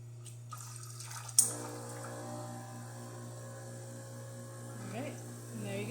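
Hot water runs from an Expobar espresso machine in a soft, continuous trickle over a steady electrical hum, with a sharp click near the start and faint gurgles toward the end.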